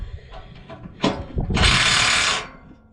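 Metallic clicks and a sharp clank from a wrench turning a bolt, followed by a loud sustained whirring burst of about a second, close and mechanical, with no speech.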